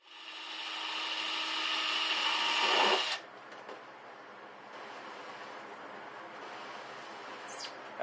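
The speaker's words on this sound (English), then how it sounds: "keep your fingers totally away from where you're drilling" A steady electric drill whirs for about three seconds, then stops, leaving quiet room tone.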